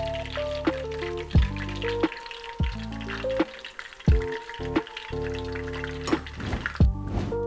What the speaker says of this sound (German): So, das Ganze geben wir jetzt ins heiße Öl und frittieren das für einige Minuten.